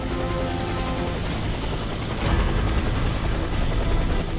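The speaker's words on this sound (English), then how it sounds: "Helicopter is inbound." A helicopter in the shooter game Warface approaches for an extraction, its rotor thrum and turbine whine steady and close, growing louder and fuller as it arrives.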